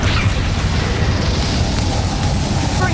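Confringo blasting spell from Hogwarts Legacy going off in a video game, a steady, dense low rumbling roar that holds without pause for the whole stretch, loud and close, with no voices over it.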